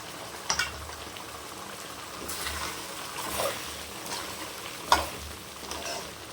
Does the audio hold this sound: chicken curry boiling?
yes